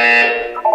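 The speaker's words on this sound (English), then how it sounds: "When you hear the buzzer, look up at the ceiling." The test chamber buzzer in the video game Portal 2 sounds as a loud, close electronic tone lasting under a second, then tails off into a softer blip.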